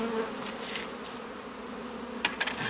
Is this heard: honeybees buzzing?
yes